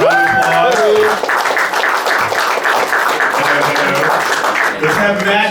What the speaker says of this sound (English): let's have Karina Clay up on stage. Round of applause